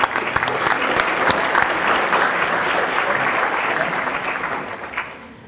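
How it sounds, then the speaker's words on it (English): Sustained audience applause fills a hall at a 2023 State of the City address, a dense steady wash of clapping that holds for several seconds before tapering off at the end. "So give Trevor a round of applause, folks."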